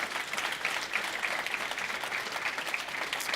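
An audience at a software conference gives a steady round of applause, dense even clapping at moderate volume for several seconds.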